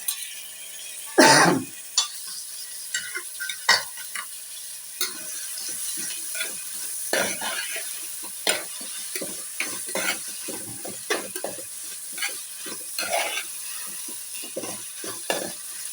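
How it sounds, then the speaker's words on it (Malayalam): Tomato, shallots and onion sauté in a pan for a chicken curry, a steady sizzle under repeated scraping stirs and occasional metallic knocks of a spoon, close and continuous with one louder clatter early on, no voices. "നമ്മളെ തക്കാളിയും ചെറിയ ഉള്ളിയും സവാളയും ഒന്ന് വഴണ്ട് വരണം കൂട്ടുകാരെ"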